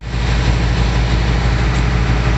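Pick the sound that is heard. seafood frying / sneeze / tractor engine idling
tractor engine idling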